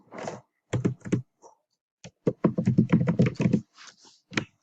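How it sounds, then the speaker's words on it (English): Keys clatter on a computer keyboard as a name is typed into a Cricut Design Space text box, arriving in close, quick bursts of keystrokes separated by short pauses. "I'm just going to go ahead and type out my name."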